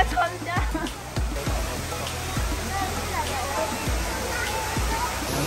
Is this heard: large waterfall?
yes